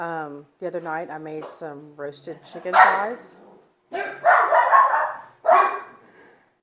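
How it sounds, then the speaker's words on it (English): Several dogs bark near a home kitchen in sharp yips and short barks, loud and close, while a person talks over and between them. "Sorry about the dogs."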